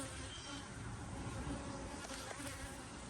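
Honeybees hum in a dense, continuous buzz around an opened hive during inspection after honey extraction, close and steady, with a voice faintly present beneath the swarm.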